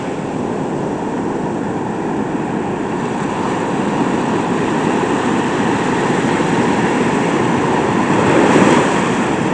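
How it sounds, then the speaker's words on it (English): Big ocean waves roll in with a steady, loud, broadband roar that swells slightly near the end, heard outdoors without talking. "Some pretty big waves out there."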